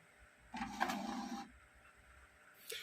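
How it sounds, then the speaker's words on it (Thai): An HP printer running a test page gives a short, fairly quiet mechanical whir of about a second, then a brief faint click near the end. "เดี๋ยวเราลองสั่งปริ้นดูนะครับ"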